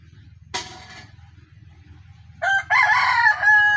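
Rooster crowing loudly and close by at night in the Philippines, one full cock-a-doodle-doo after a brief sharp noise, over a steady low background hum.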